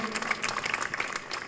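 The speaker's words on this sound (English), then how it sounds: "Please give a big round of applause" Volunteers and guests at the Versova Beach cleanup in Mumbai applaud together, with crisp, steady clapping filling the moment and no voices standing out.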